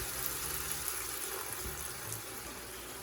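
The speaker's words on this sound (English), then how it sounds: "I'm going to go ahead and place some water in here." Water is poured into a pan of cooked taco beef, making a quiet, steady hiss of pouring liquid that runs evenly from start to finish with no voices.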